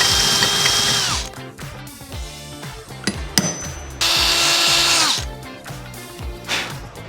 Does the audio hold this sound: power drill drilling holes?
yes